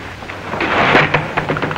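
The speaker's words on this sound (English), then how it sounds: "And it's raining." Rain falls steadily with a rumble of thunder swelling and fading, fairly loud and close, no voices heard.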